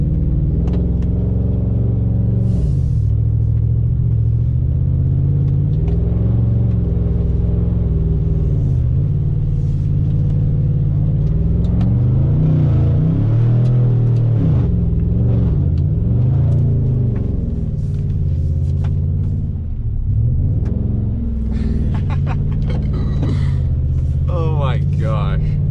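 A 2018 Chevrolet Silverado pickup's engine rumbles and revs continuously in a mud hole, rising and falling in pitch as it strains, with someone talking over the steady roar.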